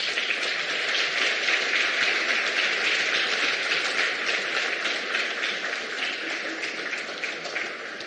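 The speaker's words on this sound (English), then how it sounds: "I think they deserve a round of applause" Sustained audience applause at an economics and competition law policy conference, a dense steady wash of many hands clapping that carries evenly throughout with no break.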